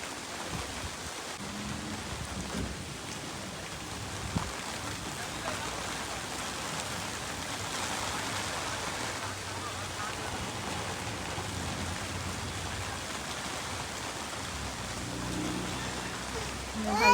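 Steady rain hisses throughout during a sudden storm over onion fields, with faint voices murmuring in the background.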